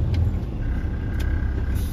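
Class 1 truck rolling forward during a pre-trip safety check, a steady close engine rumble and drone throughout, with faint hiss and no talk.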